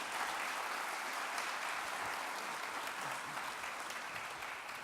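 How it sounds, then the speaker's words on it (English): An audience at a health conference applauds steadily, a dense, even wash of clapping that holds for several seconds and tapers slightly at the end. "Please give them a big round of applause."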